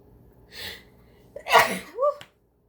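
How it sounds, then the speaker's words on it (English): A person sneezes: a soft breathy intake, then a loud, sharp explosive sneeze close by, followed by a brief voiced exclamation, then silence. "I've sneezed twice in the last couple of days"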